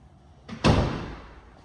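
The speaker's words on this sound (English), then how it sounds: "Close some doors." A door in a house is shut: a soft swing followed by a single firm thud of the door closing, close by and alone.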